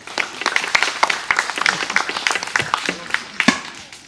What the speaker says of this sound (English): Just give the boys a round of applause.